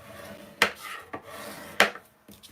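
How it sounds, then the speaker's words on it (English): Paper flap on a card being rubbed down with a burnishing tool, a few short scraping strokes close by, separated by brief pauses. "when it's firmly down, then you can burnish"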